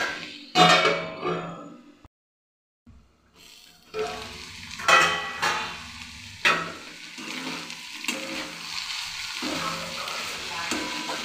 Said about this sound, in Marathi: आता परत 2-3 मिनिटं आपण ही कमी गॅसवर शिजवून घेऊ।